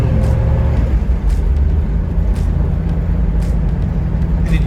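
A 1969 Ford Mustang's V8 engine runs at a steady, loud and close drone throughout. The low rumble holds an even pitch with no clear rise in revs.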